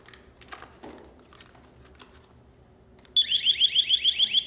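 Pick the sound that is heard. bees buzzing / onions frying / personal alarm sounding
personal alarm sounding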